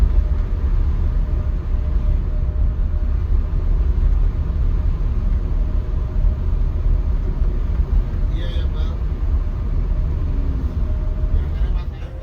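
Road traffic coming from the direction of Malang passes outside an MTrans Castle bus travelling from Jakarta to Malang. Inside, a steady low engine and road rumble carries a faint whoosh of passing vehicles, with occasional talk over it.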